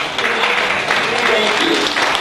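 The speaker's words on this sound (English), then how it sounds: "Another round of applause for that." An audience applauds after the national anthem at a school celebration, a dense, steady wash of clapping that fills the room for a couple of seconds.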